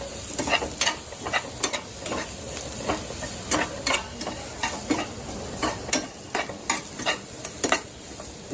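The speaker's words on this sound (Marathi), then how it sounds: "तर आपण ह्या ज्या शेंगा कापलेल्या होत्या तुकडे ते आता टाकायचे आणि ते परतून घ्यायचे चांगल्या." Drumstick pieces are tossed and sautéed in a sizzling onion masala, with repeated scraping stir strokes over a steady fry, close and alone without any voices.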